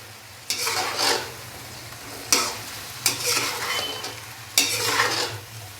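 Chopped tomatoes are stirred into chicken karahi in a hot pan, with repeated scraping strokes over a steady close sizzle and no talking.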